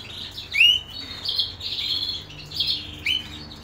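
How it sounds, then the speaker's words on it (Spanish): A white, carotene-free pet bird, likely a canary, gives several short bright chirps and rising tweets in quick bursts, close by over a faint low room hum. "Mirad, mira qué pájaro tan blanco."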